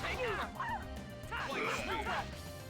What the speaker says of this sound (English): I hear something yelping like a dog.